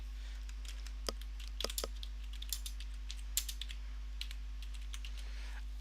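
Light tapping on a computer keyboard, with scattered faint key clicks, a few in quick clusters, over a low steady electrical hum and no talking.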